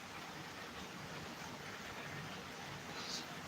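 Steady, dense hiss of rain falling, constant and fairly close with no clear breaks, a soft broadband wash throughout.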